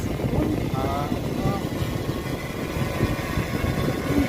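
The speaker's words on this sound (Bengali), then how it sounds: "দেখো ড্রোন উড়ে গেছে।" A drone flies outdoors on a hot, breezy day near a palace, its buzzing whir continuous and moderately close, mixed with wind and occasional talk.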